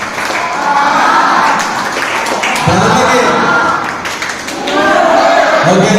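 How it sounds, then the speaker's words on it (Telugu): Audience applause in a hall at a celebration honouring Father Mahesh, a Salesian priest, at Don Bosco in Ramanthapur, Hyderabad; steady crowd clapping fills the whole stretch, swelling again near the end, with voices mixed in. "చలో, లవ్ క్లాప్స్ గో."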